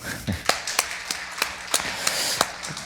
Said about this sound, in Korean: 박수 한번 치실까요?